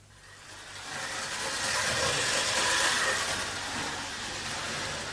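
Model trains run with a steady rushing, hissing rumble that swells and then holds, moderately loud and continuous, with no voices over it.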